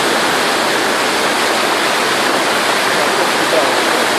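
A powerful waterfall pours through a narrow gorge near Piha Beach, outside Auckland, New Zealand, as a loud, dense, unbroken rush of water close by.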